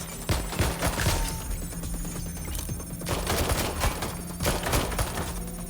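Gunfire in the Watch Dogs Legion video game: rapid bursts of automatic rifle fire and scattered single shots, sharp and close, repeating in uneven volleys over a steady electronic hum.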